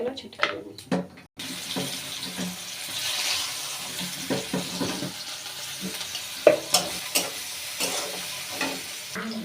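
Chopped onions fry in oil with turmeric and salt, a steady sizzle under soft stirring and scraping, with several clinks and taps nearby.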